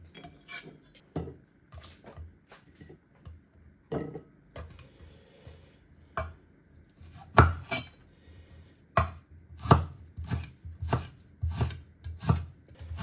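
A knife chops food on a board for a spicy chicken stew, irregular sharp thuds at first that grow into a quicker run of louder, closer strokes, with no talking.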